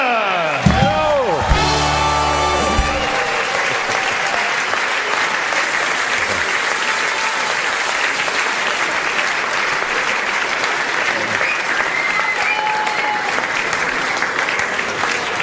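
An audience at a Mombacher Bohnebeitel 2016 carnival session breaks into loud, sustained applause after a parody performance. A few sharp knocks open it, then the clapping settles into a dense, even roar that carries on throughout.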